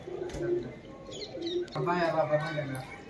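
Pigeons cooing nearby in low, throaty repeated calls, with a person talking over them partway through.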